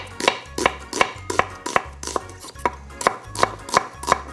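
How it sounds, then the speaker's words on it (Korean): A knife slices an onion into thick slices on a cutting board. About a dozen crisp, evenly spaced chops come close and clear, each with a dull board thud underneath. "양파 하나 준비해 주시고요, 약간 두꺼운 슬라이스로 썰어서 준비할게요."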